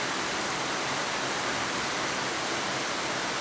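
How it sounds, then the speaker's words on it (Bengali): Rain falling steadily, a dense, loud, even hiss of broadband patter that fills the whole clip with no breaks and no voices. "আমাদের এলাকাতে তো বৃষ্টি হইতেছে এখন এখন কত সুন্দর ও বৃষ্টির শব্দটা"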